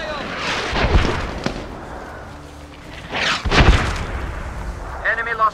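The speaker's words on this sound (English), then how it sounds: "This is Atlas requesting indirect fire." An artillery strike called in during a Medal of Honor Warfighter multiplayer match: a few heavy booming impacts spaced a couple of seconds apart, loud and close, with voices talking between the blasts.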